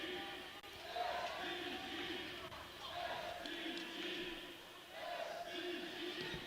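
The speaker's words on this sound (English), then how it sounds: "The crowd chanting SVG for the New Zealander." At a kickball game, a crowd chants in a repeated rhythmic cadence from the stands, a moderately loud communal chant that swells and dips over several seconds.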